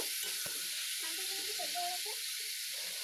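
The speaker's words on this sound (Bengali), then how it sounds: "মাংসটাকে কিছু সময় কষিয়ে নেব" Chicken pieces are stirred and sautéed in a pan, giving a soft steady sizzle with scraping stir noises up close, and a faint voice briefly in the background.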